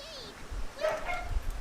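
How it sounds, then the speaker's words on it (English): A dog barks and yips close by in a couple of short bursts, with a faint whine, heard under low background noise in a room during a live stream. "I apologize for the dog barks"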